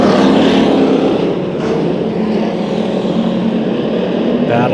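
Hobby stock race cars roar around Bakersfield Speedway during a heat race, their engines a dense, steady drone with shifting pitch as the pack circles, while an announcer talks over the noise throughout.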